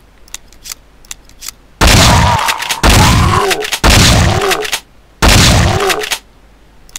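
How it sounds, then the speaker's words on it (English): Shotgun fire in the zombie game Slaughter Lands: four heavy, close, loud blasts about a second apart, each with a booming tail, preceded by faint clicking game sounds. "So you can blow zombies' heads off with the newly optimized shotgun."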